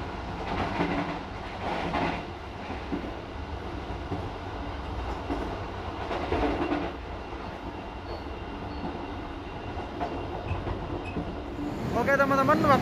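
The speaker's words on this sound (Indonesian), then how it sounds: "kereta api Mutiara Timur yang saya naiki saat ini telah tiba di stasiun Sragen" Mutiara Timur economy passenger train pulling into Sragen station at night, a steady rumble and rattle of rail cars from inside the carriage with a brief louder swell of clattering near the end.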